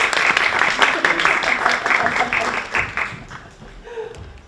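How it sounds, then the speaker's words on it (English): A room of listeners at a design talk gives a quick round of applause, dense continuous clapping that thins out toward the end as the next speaker prepares. "So please, quick round of applause."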